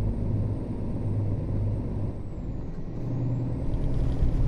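A Scania truck in Euro Truck Simulator 2 rumbles at idle with a low, steady engine drone, a sharp hiss of air brakes releasing partway through, no voices.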